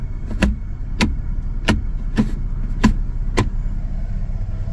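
Toyota FJ Cruiser with an A750F automatic transmission idling with a steady low engine rumble, while six sharp clicks and clunks land about every half second to second as the gear selector is moved between positions.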